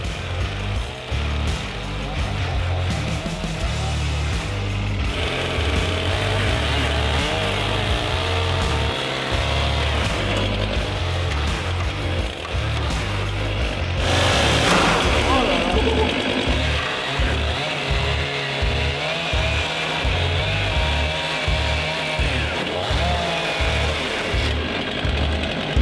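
A chainsaw engine runs close by for about twenty-five seconds, a loud, steady rasping drone with rhythmic low pulsing and a brief rise in pitch midway, a voice occasionally faint beneath it.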